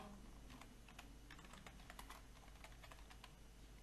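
Computer keyboard keys pressed while typing in Microsoft Word 2013, a steady run of quiet, close clicks and taps with no voices.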